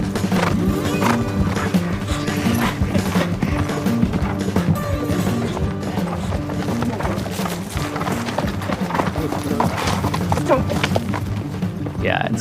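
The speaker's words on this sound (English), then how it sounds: "come the horses." Horses gallop off at the start of a desert endurance race, a rapid drumming of hooves mixed with crowd noise and people talking, fairly close and busy throughout.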